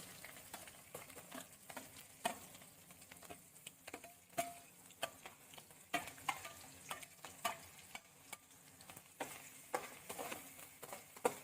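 Onion and green chillies frying with mustard seeds over a medium flame, a soft, low-level sizzle punctuated by frequent small pops and crackles, with no one speaking.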